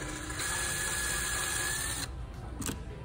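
A screwdriver backs a screw out of a cellular window shade during clutch replacement, a steady whirring grind for about two seconds, then stopping with a few small clicks and handling noises, close and moderately loud.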